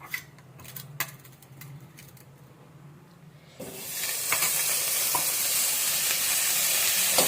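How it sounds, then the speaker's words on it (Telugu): Butter melting in a pan on the stove shifts from faint crackles and clinks to a loud, steady sizzle and hiss partway through, close by and alone. "వెన్న వేసి ఇట్లా మంచిగా ఇట్లాగా మెల్ట్ అయ్యే వరకు కరిగే పెట్టుకుంటూ ఉందాము"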